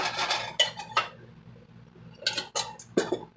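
A mixing bowl of freshly stirred banana bread batter is set down on a kitchen counter, giving a few sharp clinks and knocks with quiet pauses between them.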